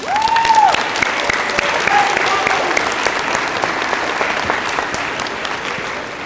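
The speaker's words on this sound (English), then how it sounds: "we give you a round of applause and ask our graduates to also join me in giving you and honoring you with a round of applause" A graduation audience at a 2019 school ceremony gives a long round of applause, steady dense clapping that slowly thins, with a brief voice or tone near the start.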